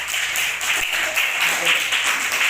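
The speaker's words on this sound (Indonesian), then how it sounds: "Iya, tepuk tangan sama kelompok 2." A group of participants gives a round of applause for group 2 after their presentation at an academic coaching and supervision session. Loud, dense clapping fills the room, with voices mixed in underneath.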